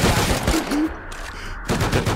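Gunfire from a bot in the survival game Rust: a dense rattle of rapid shots, then a short gap and another burst, loud and close.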